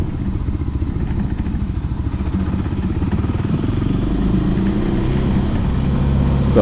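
Voge 300 Rally motorcycle engine pulling steadily under throttle while riding, a loud continuous low rumble with a slight rise in pitch toward the end, no voices.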